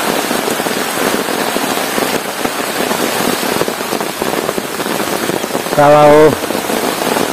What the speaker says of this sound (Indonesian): Ini hujannya tidak berhenti, malah semakin lebat ini.